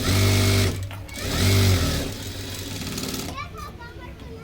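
Two short runs of a sewing machine stitching a size-40 four-tuck blouse, each a steady droning whir that starts and stops, loud and close, with a quieter rattly pause between.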